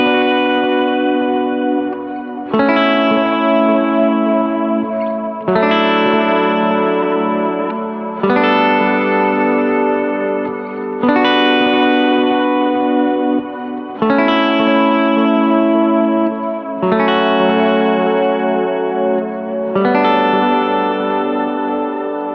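Electric guitar swells wash through a pedalboard of delay and modulation effects, eight long, lush chords rising every few seconds with repeats and reverb trailing between them, loud and alone with no talking.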